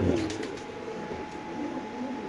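Pigeons cooing in cages at a pigeon market, a soft low coo near the start over a steady murmur of market background.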